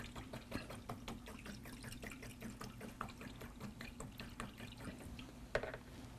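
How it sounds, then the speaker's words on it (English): A paintbrush is swished and rinsed in a container of water during an oil painting session, giving soft continuous splashing with small drips and clinks, fairly quiet and steady with no talking. "I'm going to rinse that brush out."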